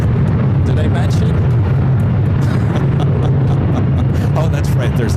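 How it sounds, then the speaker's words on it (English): A Delta 737-900ER airliner takes off near LAX with a loud, continuous roar that holds steady throughout, heavy low rumble with a broad wash of higher noise on top. "There's a Delta 737-900ER taking off over there."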